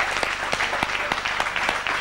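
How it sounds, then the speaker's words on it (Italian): A TV studio audience applauds a singer's entrance on an Italian evening show, rhythmic clapping with sharp accented beats over a steady low hum and faint background voices. "noi accogliamo con un caloroso applauso"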